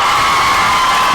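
Audience cheering and clapping for two tenth-grade students about to dance at a school performance: a dense, loud crowd roar with shouts and whoops, continuous throughout.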